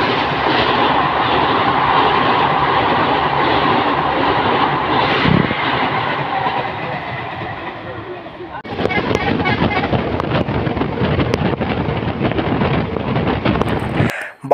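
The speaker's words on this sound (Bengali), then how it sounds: "দেখি ওই ট্রেনটি হুইসেল দিতে দিতে যাচ্ছে।" Passing train at the Salboni level crossing, heard from a waiting bus: a loud, steady rumble of rolling wagons with clattering, then a sharper, harsher burst of noise in the second half.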